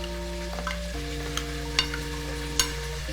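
A salad dressing of black pepper, salt and vinegar is stirred, with faint soft clicks and a few light taps over a steady background hum.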